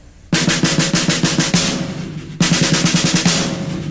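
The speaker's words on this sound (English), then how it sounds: "let's look at the 9 stroke roll now." Two bursts of a nine-stroke roll on a drum, played as paired right-right, left-left strokes, each bursting in loud and rapid before tapering off, alone with no talk.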